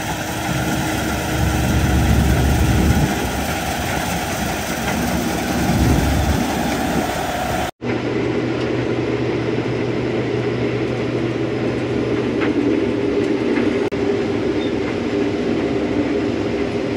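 A combine harvester working a farm field, its engine running as a loud continuous drone with heavy low rumble, cutting abruptly to a lighter steady hum partway through.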